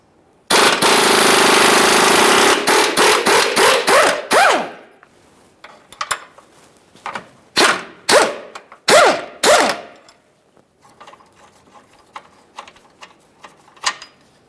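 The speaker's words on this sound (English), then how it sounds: "we're going to remove our 21mm mounting bolt holding the control arm to the subframe" Impact gun rattling off a 21mm control arm mounting bolt on a 2013-2020 Ford Fusion 2.0L, a loud sustained burst of hammering followed by several short, choppy bursts and faint clinks as it spins free.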